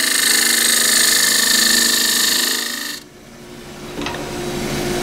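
A half inch spindle gouge cutting a cross-grain wooden box on a lathe gives a steady, loud hissing scrape for about three seconds, then stops abruptly, leaving a quieter lathe hum with a brief tick.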